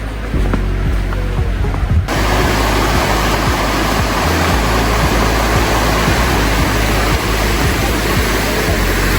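A river at a campsite rushes in a steady, loud wash of water that surges in abruptly after a quieter opening, then holds unbroken to the end.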